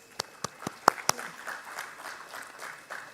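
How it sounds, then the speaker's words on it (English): A handful of sharp, separate claps from a conference audience for the panelists give way to faint, scattered applause in the hall. "please give a big round of applause to the panelists."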